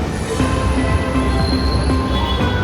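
A metro train in Hyderabad rumbles along in a steady, loud interior drone with faint wheel squeal and hum, no talk.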